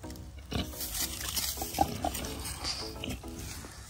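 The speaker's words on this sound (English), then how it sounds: "They're just pigs." A few soft, low grunts and snuffles from pigs close by on a farm, short and irregular, with some rustling and faint background noise.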